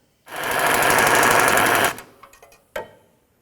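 Rapid ratcheting buzz from a 12 mm ratchet spinning off exhaust spring bolts on a 2003-08 Toyota Matrix, one sustained loud burst for about a second and a half, then a few short clicks and a clank.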